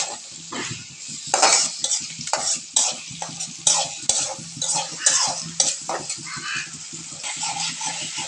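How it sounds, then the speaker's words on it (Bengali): Onions fried in oil are stirred with a utensil in a pan: rhythmic scraping strokes sound over a constant sizzle, close and clear, with no talking. "তেল আর পেঁয়াজ দিয়ে নাড়াচাড়া করে নিচ্ছে"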